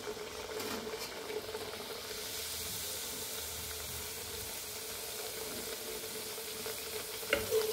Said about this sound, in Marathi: अगोदर पुऱ्या तळून घेते आता।